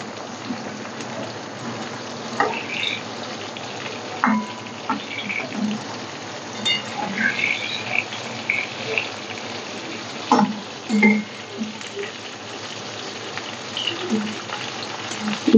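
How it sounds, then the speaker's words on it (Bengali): Eggplant pieces frying in mustard oil crackle with a steady, fine patter and scattered louder pops, close and continuous, with no one speaking. "উল্টে উল্টে ভেজে নিতে হবে।"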